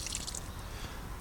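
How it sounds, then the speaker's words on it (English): Water trickling out of a garden watering tube at low pressure, a steady soft dripping and splashing wash that stays close and continuous throughout with no talk. "the water is going out"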